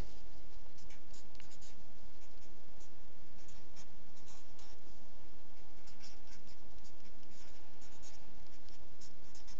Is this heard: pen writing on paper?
yes